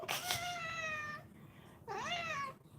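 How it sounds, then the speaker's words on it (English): A pet cat gives two drawn-out meows close by, one long and level and the next rising then falling, with a short quiet gap between them. "That's my kitty."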